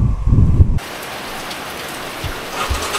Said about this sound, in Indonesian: Tiba-tiba hujan.